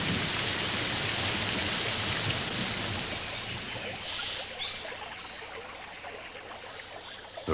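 Heavy tropical rain in the Pantanal wetlands pours steadily in a dense, hissing wash of countless drops, loud and continuous throughout with no voices.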